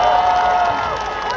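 A crowd at a by-election campaign rally gives a sustained burst of applause and cheering for a young speaker, a steady dense wash of clapping and voices at close range, heard without speech over it.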